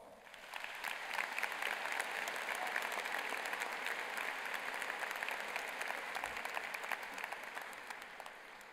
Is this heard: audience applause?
yes